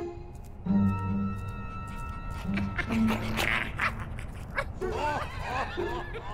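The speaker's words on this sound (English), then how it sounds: "that's a lot of barking puppies" A group of puppies yips and barks in the game Minecraft Story Mode, giving short overlapping high-pitched barks near and loud, mixed with scraping and shuffling sounds.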